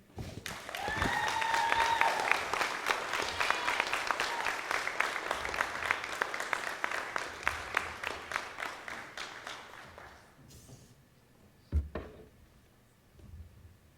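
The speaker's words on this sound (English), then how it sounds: "Again, one more round of applause for Ms. Amanata Drame." An audience applauds a student speaker at an "If I Were President" speech event, a full round of clapping that swells early, thins into separate claps, and fades out, followed by a couple of knocks and near silence.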